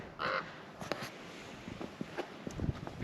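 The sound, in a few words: ravens calling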